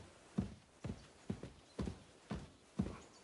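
Horse hooves clip-clop at a steady walking pace in Kingdom Come: Deliverance II, about seven evenly spaced thuds on firm ground, fairly quiet and alone with no talk.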